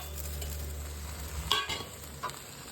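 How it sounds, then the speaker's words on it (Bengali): Fried rice and chickpeas are stirred in a pan with a soft steady sizzle, then a couple of sharper scraping clinks of the spoon against the pan near the end, quiet and without talk. "দিয়ে ভালো করে নাড়াচাড়া করে নেবো,"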